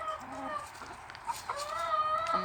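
Chickens on a chicken farm cluck in short, repeated calls, with a few drawn-out squawks rising over a steady hum of flock noise at close range.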